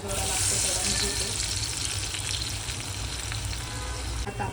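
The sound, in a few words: dal vada batter frying on a hot pan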